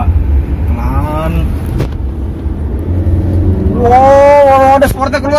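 Wuling Almaz medium SUV with a turbocharged engine accelerating hard in sport mode, a loud steady engine drone and cabin rumble that rises in pitch toward the end, with people talking in the cabin over it.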